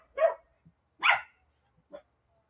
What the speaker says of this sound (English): Excuse my dog. Sorry, I don't know why they're barking so crazy.